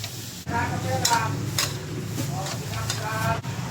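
Beef fat renders into oil in a hot pan with a steady, continuous sizzle, broken by several stirring scrapes and bursts of spatter. A voice talks over it.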